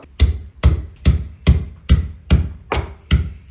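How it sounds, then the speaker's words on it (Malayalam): Small shallots pounded with a pestle for chukku kashayam: eight steady, close thumps at an even pace, each a dull low knock with a brief crackle, with no voices. "അടുത്തത് നമ്മൾ ചതയ്ക്കാൻ പോകുന്നത് ചെറിയുള്ളി കേട്ടോ"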